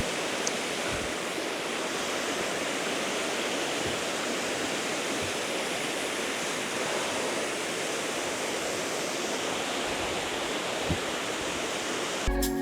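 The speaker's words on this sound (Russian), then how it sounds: "Водопад 7 красавиц. Габалинский район." Seven Beauties waterfall in the Gabala district of Azerbaijan, in the mountains, roars as a loud, steady, broadband rush of falling water heard close and alone throughout.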